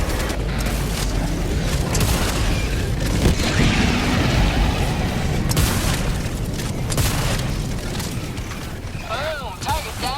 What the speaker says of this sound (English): Boom! Target down!